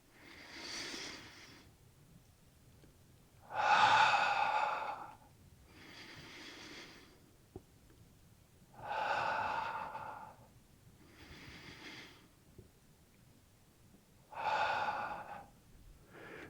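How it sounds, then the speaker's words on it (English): Slow, deep breaths in and out during a tai chi session, each airy rush of breath lasting a second or two and separated by quiet pauses, close and soft with no talking. "Breathing in, breathing out."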